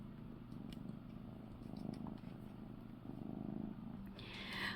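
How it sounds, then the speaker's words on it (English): A kitten purrs close to a tabletop microphone, a steady low rumbling drone throughout with slight rhythmic swells and a brief rustle near the end. "You're purring."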